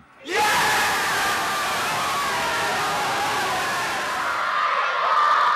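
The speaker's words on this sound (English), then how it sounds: "tension of passengers waiting to board flights erupted into cheers" A large crowd of passengers waiting to board flights bursts into loud cheering and shouting, the roar rising sharply and holding steady for several seconds as a dense, celebratory wall of voices.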